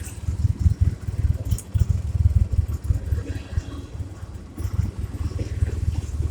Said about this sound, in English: She's idling.